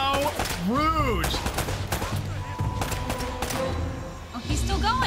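Gunfire in the action game Uncharted: Drake's Fortune, several loud shots and short bursts amid in-game combat sounds and shifting music-like tones, with a voice heard at moments over the action.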